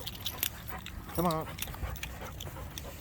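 Basset hounds whimper briefly on a walk through a field, a short rising whine amid rustling and a voice speaking nearby.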